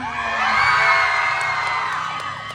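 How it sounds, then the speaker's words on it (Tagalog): A pageant audience at a costume competition in Manila cheers, whoops and shouts in a loud, sustained burst that swells and then eases slightly, with no clear talk over it. "Wala bang hiyawan dyan?"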